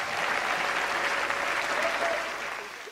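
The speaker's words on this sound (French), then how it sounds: "J'aimerais qu'on acclame" A crowd at a church gathering bursts into sustained applause, a dense wash of clapping that holds steady for a few seconds before tapering off at the end.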